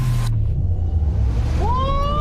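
A low rumbling drone with a rising electric whine from a Chevrolet Blazer EV SS electric SUV accelerating hard close by.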